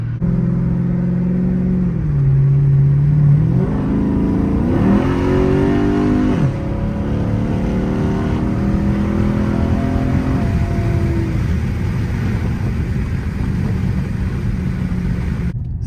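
A Chrysler 300 SRT 392 V8 rumbles loudly from inside the car, its pitch climbing and falling through several revving pulls and gear changes before settling into a steady deep drone.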